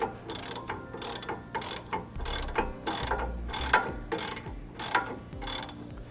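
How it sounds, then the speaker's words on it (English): A ratchet with an 18mm socket tightens end links on a 2015 Winnebago Minnie Winnie motorhome: about ten close, rhythmic bursts of rapid clicking, each separated by brief pauses. "For our end links here, I'm going to be using that same 18mm socket."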